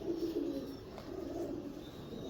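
A teddy-breed pigeon with a tail of alternating black and white feathers coos nearby, low soft throaty calls rolling in a couple of short bursts over faint room background.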